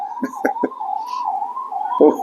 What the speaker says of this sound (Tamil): உயிரை பற்றி பேக்க பேசும்போது ஆம்புலன்ஸ் சவுண்டு கேட்குது